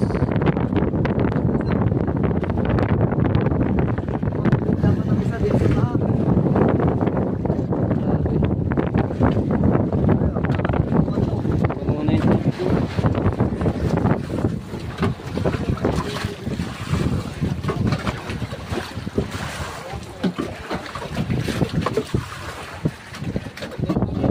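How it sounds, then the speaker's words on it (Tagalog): Steady engine drone of a motorboat with heavy wind buffeting the microphone, continuous and loud throughout, no talking. "So nandito si Kuya Michael sa isang bangka na sa Pinagpala."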